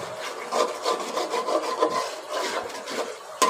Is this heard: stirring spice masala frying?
yes